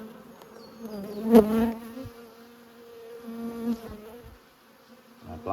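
Honeybees buzzing steadily at close range as five-frame nucleus colonies are moved from plastic boxes into poly hive nine-frame supers at an apiary in Coramba on a warm day, with a few brief louder surges.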